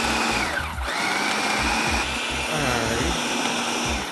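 A food processor purees a thick brownie batter made of beans, chocolate chips and eggs, its motor roaring loudly and steadily with a rhythmic churning pulse throughout.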